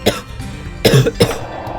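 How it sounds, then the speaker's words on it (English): A character in a PS1 video game has a coughing attack: three harsh, close coughs, one short, then a longer rasping one and a final bark, over a steady low game background. "While having a coughing attack."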